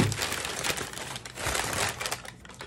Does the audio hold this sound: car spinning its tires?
no